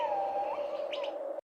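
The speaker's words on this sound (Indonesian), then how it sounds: "Hutan adalah rumah yang indah, penuh suara burung dan angin sejuk yang menenangkan." A single bird gives a sustained, tonal call in a forest, joined briefly by a couple of higher chirps. The sound is faint and clear and stops abruptly.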